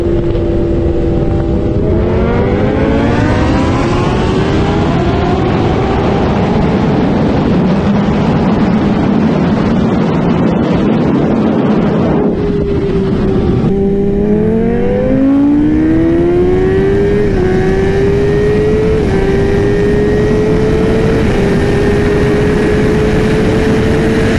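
Kawasaki ZX10R Gen 6 and BMW S1000RR motorcycles racing, loud high-revving engines that climb through gear after gear with brief dips at the shifts, close and continuous, with wind noise.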